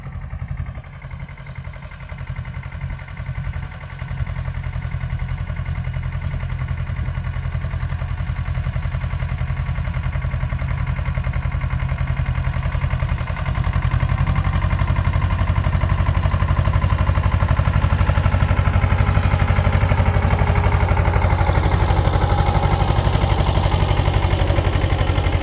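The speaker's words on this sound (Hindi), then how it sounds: "तो मैं आपको अभी ये जो ट्रैक्टर चल रहा है वह दिखा देता हूँ" A tractor engine runs steadily in a soybean field, pulling a homemade weeding rig built on an old frame, a loud continuous drone with mechanical clatter that grows slightly stronger over the stretch.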